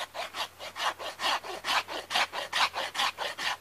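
A rasp is pushed back and forth over the wood fibers of a carved wooden hammer handle, making about a dozen evenly spaced, scratchy rubbing strokes close up with no talking.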